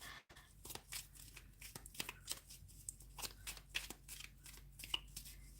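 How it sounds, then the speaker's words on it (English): Tarot cards being shuffled by hand, a rapid run of papery riffs and flicks close up, continuing in irregular bursts with no talk. "So let's get an extra shuffle."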